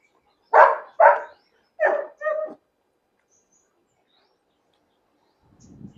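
Puppies at a kennel in Hyderabad give four quick, close barks in two pairs, then fall silent apart from a faint low rustle at the very end.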